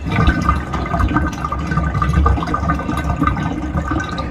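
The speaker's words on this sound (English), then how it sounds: "I just went ahead and ran some water in the tub, hot water." Hot water pours steadily from a tap into a bathtub, a continuous close rushing splash with no talking.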